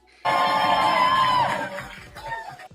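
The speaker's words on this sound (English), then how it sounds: "who put on the fake cheering sound effects?" Canned crowd cheering from a soundboard effect bursts in loudly with whoops and screams, holds for over a second, then fades into a scattered tail of shouts.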